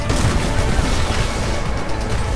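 Dense, continuous gunfire and explosive impacts rain in on the player in the shooter game Titanfall, a loud, unbroken barrage of booms and shots with no pauses across the whole stretch.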